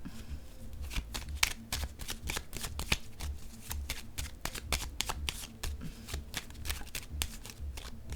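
Tarot cards are shuffled in quick, repeated riffling bursts, close and fairly loud, with a brisk irregular rhythm of flicking and tapping throughout and no speech.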